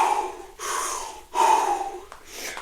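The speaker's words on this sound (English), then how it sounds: "I'm breathing in and out." Heavy, audible breaths during a rest break in a mini band workout, three long rasping exhales or gasps in a row with short pauses between, close and fairly loud, with no talking.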